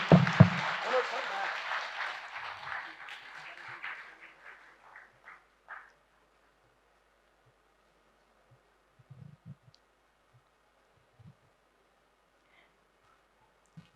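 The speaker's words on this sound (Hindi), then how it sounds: "तो फिर एक बार दमदार तालियों के साथ बता दीजिए" A burst of applause from a crowd, loud at first and gradually thinning out over several seconds into scattered claps and quiet.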